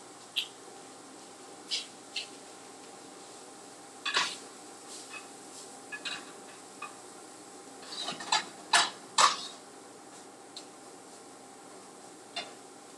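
Shirataki noodles stirred in a dry skillet, giving scattered light clicks and scrapes of utensil on pan over a quiet background.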